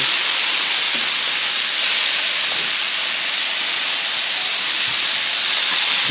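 Bacon sizzles on a Blackstone griddle, a dense, continuous hiss and crackle close by, steady throughout with occasional small pops and no voices.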